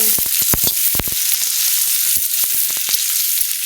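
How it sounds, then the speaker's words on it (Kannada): Tomato and onion masala for mutton curry fries in a pan, a constant loud sizzle broken by sharp crackles and pops, with no talking. "ಇದೆಲ್ಲ ಚೆನ್ನಾಗಿ ಫ್ರೈ ಮಾಡ್ಕೊಳ್ಳೋಣ"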